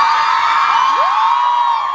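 Comedy show audience at Freehold, NJ cheering steadily for the trans kids, a dense continuous crowd roar with a few whoops rising over it, loud and sustained throughout.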